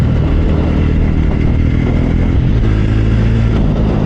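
A Jawa 42 motorcycle revving hard while pulling out to overtake a bus on the road, with loud, continuous engine drone and wind rumble close to the rider.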